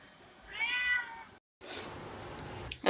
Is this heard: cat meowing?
yes